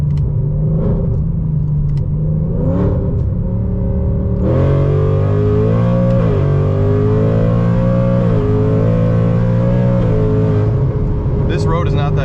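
A Whipple supercharged 2024 Mustang GT accelerates hard in sixth gear on a rough road, a loud, close engine drone climbing steadily in pitch with a brief dip, heard from inside the car with a voice talking over it.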